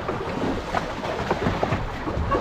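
Strong wind rushes across open sea at night around a small fishing boat rocking in the swell, a steady broadband roar with gusty buffeting and splashing water, no talk.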